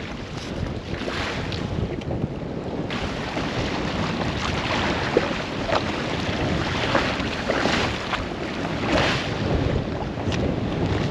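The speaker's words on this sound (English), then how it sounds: "The wind's just wrapping around. It's it's about 40 knots at the moment" A strong wind of about 40 knots wraps around a sailboat at anchor off an island near New Caledonia, a steady roaring rush with buffeting gusts and a dull rumble of water, constant throughout.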